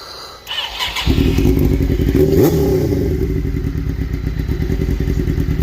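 Suzuki GSX-R 600 motorcycle engine catching and settling into a steady, deep rumbling idle, loud and close, with a brief clatter as it fires up and no talking.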